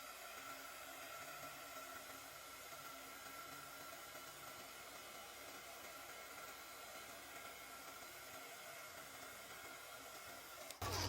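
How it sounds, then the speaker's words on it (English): A hair dryer is used to dry glued book binding work, giving a faint, steady airy whir that holds evenly for about eleven seconds before a brief louder clatter at the very end. "I am going to dry it a little bit using a dryer."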